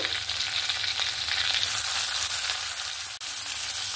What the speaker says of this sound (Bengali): আর পেঁয়াজটাকে একদম ভেজে নেব সুন্দর করে।